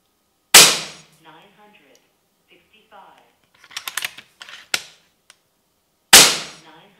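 Two sharp, close pops from an FX Crown air rifle with a GRS stock, several seconds apart, with soft mechanical clicks and handling noises between the shots.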